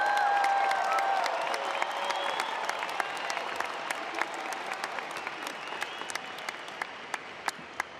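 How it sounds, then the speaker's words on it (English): A large crowd at a university graduation ceremony claps. The applause starts dense and sustained, then thins into scattered, distinct claps as it slowly dies down. "Big round of applause."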